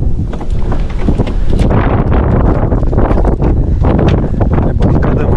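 Wind of an approaching storm gusting over open water around a boat, a loud, continuous roaring rush that buffets the microphone without a break, with no voices.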